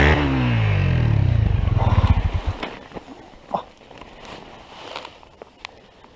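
A dual sport motorcycle crashes and spins around. A loud, rumbling engine churns and slows to a halt, followed by scattered thuds and scuffs as things settle.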